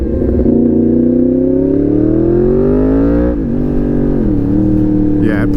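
Yamaha MT-10 motorcycle in riding mode 2 accelerating hard, its loud engine note climbing steadily in pitch before a gear change drops it briefly. The engine then builds again, close and dominant, with wind rush throughout.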